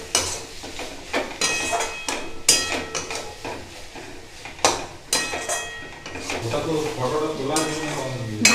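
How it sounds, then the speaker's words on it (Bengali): Pre-fried shrimp are stirred in a pan, with repeated loud metallic knocks and scrapes of the utensil against the pan over a light sizzle, close and irregular, with some voice near the end. "আগে থেকে ভেজে রাখা চিংড়ি মাছগুলো দেব। এবার ভালো করে নেড়ে নিয়ে"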